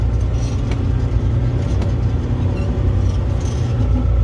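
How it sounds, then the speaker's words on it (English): A car driving through rain-soaked mud, heard as a steady loud low engine rumble and road drone from close by, with no distinct skid noises standing out. "So I'm already sliding and skidding."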